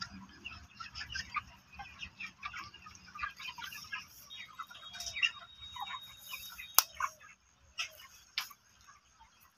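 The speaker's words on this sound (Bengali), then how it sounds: "আর এই দেখুন মুরগির ফার্ম বন্ধুরা" Faint, scattered clucks come from chickens in a large poultry farm, mixed with light ticking and clicking sounds over a quiet background.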